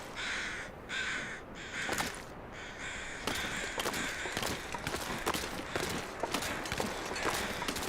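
Crows cawing in the snowy wilderness of the survival game The Long Dark, several harsh repeated caws in irregular bursts over a constant windy background, moderately distant, no talk.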